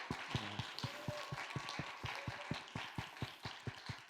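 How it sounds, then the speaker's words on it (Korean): Scattered applause honors church young-adult group officers at a Sunday worship service, a small gathering clapping in an uneven rhythm of distinct, fairly close hand claps over a faint background. "우리 뜨겁게 한번 격려와 위로의 박수를 했으면 좋겠고요"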